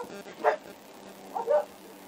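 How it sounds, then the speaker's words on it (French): An indoor dog gives two short, yappy barks about a second apart, fairly faint against a quiet room. "Non, va dehors aboyer, hein."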